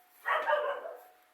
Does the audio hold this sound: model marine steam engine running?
no